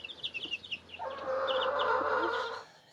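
Young chickens cluck and peep on a mountain farm in Georgia, with scattered high chirps throughout and a steadier, louder clucking call rising in the middle before fading.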